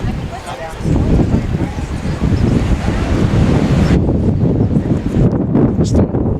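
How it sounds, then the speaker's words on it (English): Strong gusts of wind at an outdoor baseball game roar and buffet the microphone, a loud, rough rumble that rises after the first second and stays heavy throughout. "Just the gusts of wind again."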